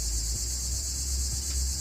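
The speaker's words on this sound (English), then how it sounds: "Sorry about the cicadas it sound like in the background" Cicadas drone on in the background in an unbroken high-pitched buzz, steady and moderately loud throughout, with low outdoor rumble underneath and no talking.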